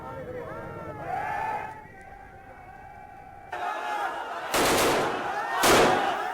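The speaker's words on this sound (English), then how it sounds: "Police firing in the air in Patiala to break up a clash" Police gunfire in Patiala, shot into the air to break up a street clash, comes as two loud broadband bursts near the end, over crowd chatter and commotion.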